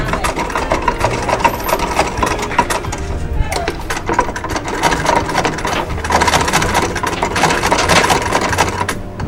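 A sewing machine stitches a band onto a shoe freehand, a fast continuous mechanical rattle that runs loud and steady throughout.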